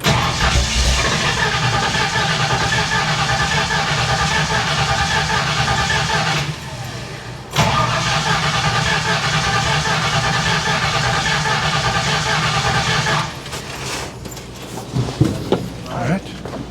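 A 1970 Ford Falcon V8 with a single-plane manifold and a freshly swapped Holley carburetor runs at a steady, rumbling idle. It dips briefly twice, then fades toward the end as people talk nearby.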